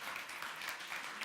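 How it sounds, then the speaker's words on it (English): Audience applause at a technology conference in Berlin, a steady dense wash of clapping with no distinct individual claps, moderately faint and continuous throughout the short stretch. "Big round of applause"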